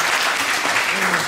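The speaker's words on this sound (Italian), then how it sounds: "vi invito a fare un applauso a lei" An audience claps together in a dense, even burst of applause at a poetry event in Lagonegro, loud and sustained for the whole moment.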